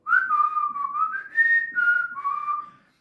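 Someone whistles a simple melody alone, a clear steady tune of connected notes rising and falling for about three seconds.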